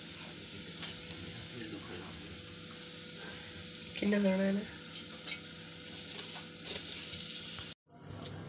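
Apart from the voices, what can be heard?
cheese paratha frying and sizzling on a pan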